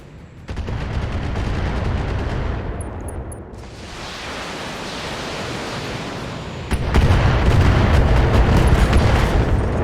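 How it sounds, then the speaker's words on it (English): Missiles and turret fire roar in the BattleTech video game, a dense rumbling barrage of launches and impacts that dips briefly, then surges louder with sustained explosive booms. "It's showering missiles over here, but the Locust is still standing."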